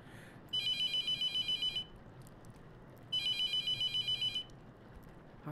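A telephone rings in the horror video game The Mortuary Assistant, two bursts of rapid electronic trilling separated by a pause, loud and clear over a low ambient hum with no talk.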